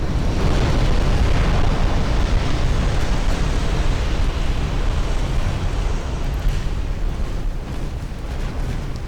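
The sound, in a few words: ship flash fire explosion in UA: Dreadnoughts video game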